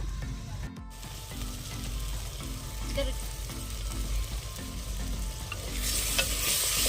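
Ginger garlic paste and green chillies sizzle in a clay pot over a wood-fired stove for biryani, with a spoon scraping in a regular rhythm and a brief faint voice underneath.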